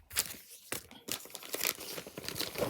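A plastic yarn package being cut open, giving a run of crinkling, tearing plastic sounds in close bursts with short pauses between.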